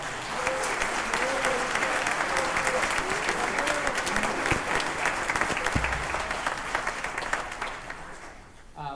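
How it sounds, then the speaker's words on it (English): Audience clapping after a jazz band's holiday concert set, a dense sustained round of applause with some crowd noise and brief voices underneath before it thins out near the end. "let's give them a round of applause as well"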